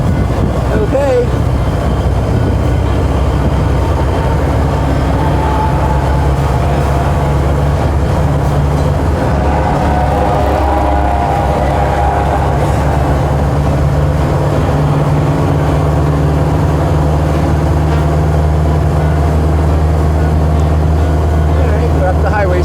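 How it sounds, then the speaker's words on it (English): A restored 1929 Ford Model A cruises at highway speed, a constant loud, close drone of engine, wind and road rumble with a deep, steady low hum running the whole way. "We're up to highway speed."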